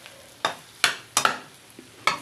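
Pui fruit and tomato frying in a pan, with four or five sharp scraping stirs of a spatula over a soft sizzle, close and fairly loud, no voices.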